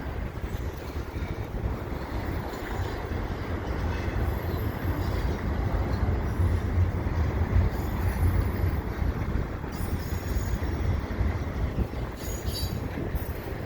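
A CP freight train with double-stack cars rumbles past steadily below a bridge, a continuous low rolling roar of rail cars with faint wheel noise, no voices.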